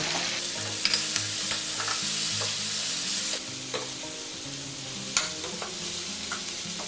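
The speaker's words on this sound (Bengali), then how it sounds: "এখানে আমি একটা পেঁয়াজ দিয়ে দিচ্ছি। এটা ভালো করে কষে নেব।" Onion with ginger-garlic-chili paste fries in a pot for mutton salan, a continuous loud sizzle with a spoon stirring and scraping at irregular intervals and occasional sharp clinks.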